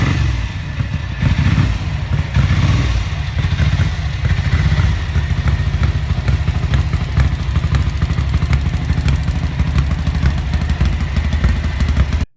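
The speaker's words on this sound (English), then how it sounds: "The powerful, unique-sounding race bike engine" A Ducati 750 SS race-bred motorcycle engine runs loud and close, a steady throbbing roar with rapid mechanical clatter and occasional revving swells throughout, no voices.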